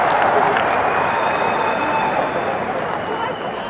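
A large crowd claps and cheers at a farmers' protest rally in Delhi during a political speech, with rain falling. The applause is a loud, dense, continuous roar that carries through the whole stretch and eases slightly at the end.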